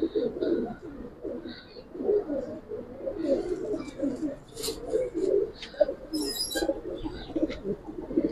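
Giribaz and coloring pigeons coo steadily in a low, continuous murmur throughout, with occasional higher chirps from other birds, while someone talks faintly nearby at a market stall.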